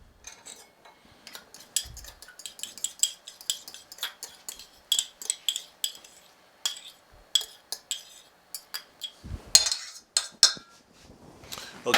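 Spoon or whisk clinking and scraping against a bowl as melted butter is stirred into a mixture, a steady series of close, bright metallic clicks and taps with brief pauses, no voices.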